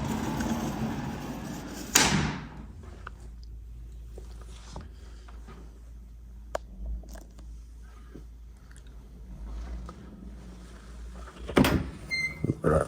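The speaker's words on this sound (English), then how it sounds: "let's take a look at our first bedroom, which has this sliding door" A bedroom sliding door in a Washington DC home is pushed along its track, with a loud thump near the start and another rattling bang near the end, separated by quiet room tone with faint small knocks.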